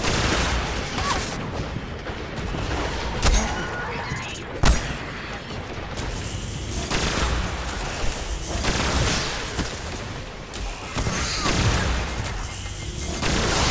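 Fusion rifle shots in Destiny fired at Fallen enemies, sharp bursts popping out of a dense, loud din of game gunfire and explosions that runs the whole time.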